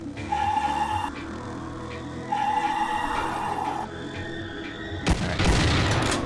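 Weapon fire in the Doom 2 total-conversion mod Shrine: sustained loud synthetic blasting with droning tones, ending in a sharper, brighter explosive burst, with game sound throughout and no talking.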